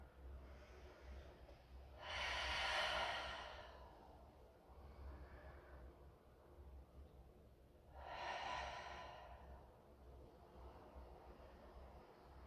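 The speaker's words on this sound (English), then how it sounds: "3 big, long, descending breaths out here" Two long, slow exhalations out through the nose in a yoga child's pose, close and soft, separated by a few seconds of quiet room tone.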